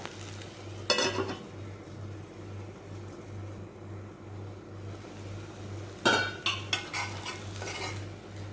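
Malpua frying in oil in a pan: a low steady sizzle under clear metallic clatter of a spatula or lid against the pan, in two brief bursts, close and with no talk.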